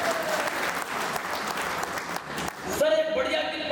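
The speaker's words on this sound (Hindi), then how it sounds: "एक बार अपने सम्मान में ताली बजाइए" Audience applause at a Hindi comedy poetry gathering, dense steady clapping filling the room throughout, with a brief voice or tone cutting in near the end.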